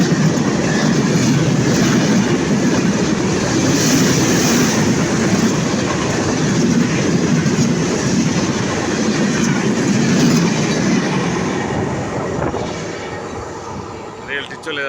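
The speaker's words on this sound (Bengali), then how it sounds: "এই যে রেল, এই যে সৌভাগ্য যে এখনই একটা রেলগাড়ি যাচ্ছে আর কি।" A train rolls past on the railway near the six-lane Kalna Bridge in Bangladesh, a loud, steady rumble and clatter that fades slightly toward the end.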